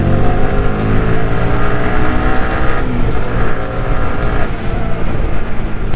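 A Yamaha R15 V3 motorcycle accelerates hard on an open road, its engine note climbing in loud, close rising harmonics with wind rush, and no talking over it.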